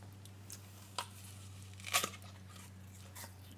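Crisp bite into a crunchy Gala apple, a few faint crunches followed by one sharper, louder snap near the middle, then a small crackle, close up over a quiet steady hum with no talking.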